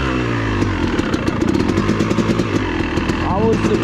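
A trail motorcycle on an enduro cross course, its engine running loud and close with rapid popping firing pulses, and someone talking over the engine noise.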